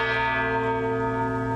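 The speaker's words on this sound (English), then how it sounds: "Bells tolled in Kyiv a year to the day Russia invaded Ukraine." Church bells tolling in Kyiv, a rich sustained ring with layered overtones that fills the moment alone and undiminished.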